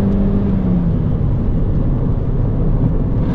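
Mini car engine driving fast on the road, a steady loud drone with a low engine hum and road rumble filling the whole stretch, no speech.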